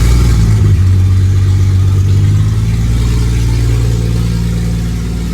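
A GMC Envoy's turbocharged Vortec 4200 inline-six runs on open exhaust, a loud, deep, rough engine note close by that rises briefly and then settles into a steady drone.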